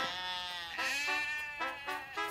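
A cartoon sheep bleats in several wavering, nasal cries, close and clear, one drawn-out call followed by shorter ones.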